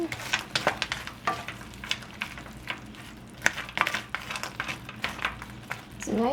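Chicken in gochujang sauce stirred in a frying pan, a steady low sizzle under repeated spoon scrapes and taps against the pan, moderately close.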